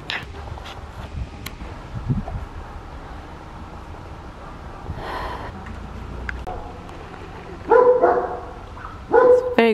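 A puppy barks outdoors in a quiet neighborhood in Zemun, Serbia, with a few scattered yips early on and two louder, sharper bursts of barking near the end over a low background hum.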